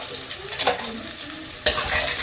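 Onions and green chilies with whole spices fry in a hot pan, a steady close sizzle with occasional stirring scrapes and a sharper burst of frying near the end.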